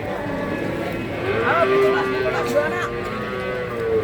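Cattle lowing at the Jatirogo cattle market, among cows with calves: a long, drawn-out moo swells close by over a steady crowd murmur, with people talking and more livestock noise throughout.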